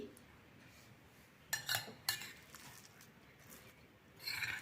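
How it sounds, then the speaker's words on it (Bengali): A lid is lifted off a pan of potato pakora mix with a couple of quiet metallic clinks and scrapes close by, followed by a soft rattle near the end in an otherwise quiet kitchen. "এবার আমি দেখে নেব ঢাকাটা উঠিয়ে এটার কি পরিস্থিতি"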